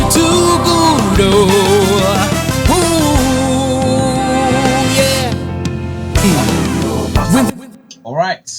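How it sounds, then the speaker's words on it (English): Horn section playing within a dense worship song mix, sustained brass lines layered over full band and vocals, loud and continuous before the music cuts off near the end. "that's the sound of the horns on this particular song"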